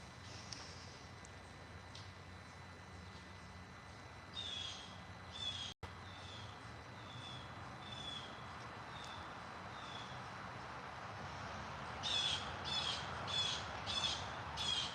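Crows cawing outdoors, a series of harsh calls from birds at a moderate distance, some single and some in quick runs, over a steady background hiss.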